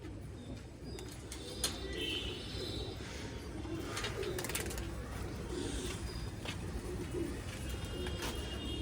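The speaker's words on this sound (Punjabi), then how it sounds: "ਉਹ ਟਾਵਰ ਤੇ ਇੱਕ ਬਹਿ ਗਿਆ ਕਬੂਤਰ" Soft coos from newly acquired caged pigeons repeat in the background amid quiet outdoor ambience and faint, muffled voices.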